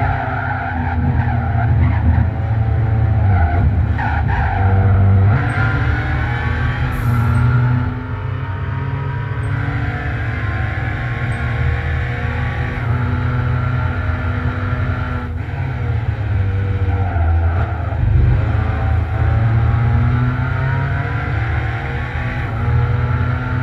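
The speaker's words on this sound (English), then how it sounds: "let you see what it's like driving the Samba bus" A VW Samba Bus races around Suzuka in the Gran Turismo 5 game, its engine droning and rising and falling through gear changes as tires squeal and skid almost without pause through the corners.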